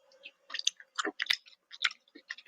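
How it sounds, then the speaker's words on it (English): A person chews food close to the microphone with soft, irregular wet crunches and smacks spread over a couple of seconds. "What are we munching on today?"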